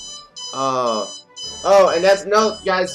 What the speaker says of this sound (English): Well, that's just my alarm clock.